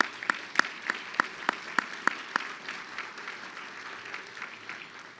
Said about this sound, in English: If you could please give them a big round of applause.